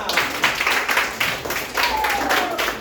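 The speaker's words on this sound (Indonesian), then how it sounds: "Oke, tepuk tangan kita semua" A primary-school class in a coding lesson claps together in a loud, rhythmic series of roughly even beats, with a faint whistle-like tone sliding through partway.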